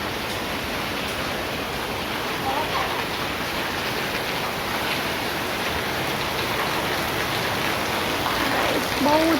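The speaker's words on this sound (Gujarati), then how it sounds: "બહુ જ વરસાદ ચાલુ થઈ ગયો" A heavy downpour makes a steady, even roar of rain that holds at a constant level throughout, with no distinct individual drops.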